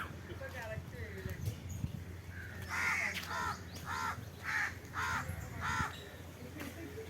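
Crows caw repeatedly in Riyam Park, Muscat, a series of loud, harsh calls coming in bursts over a couple of seconds, with people talking in the background.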